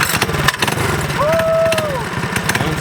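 A C10 mini bike with a built engine putters nearby in a fast, choppy rhythm, with a brief rising-and-falling engine whine in the middle.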